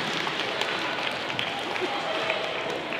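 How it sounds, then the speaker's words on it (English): Audience applause at a middle school presentation, a dense steady wash of many hands clapping with crowd noise throughout, fairly loud and continuous. "A round of applause for them,"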